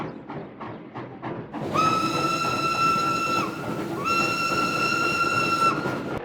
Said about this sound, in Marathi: सर्वांचा रेल्वेचा प्रवास सुरू झाला